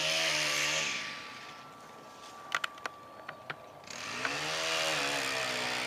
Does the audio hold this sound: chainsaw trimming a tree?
yes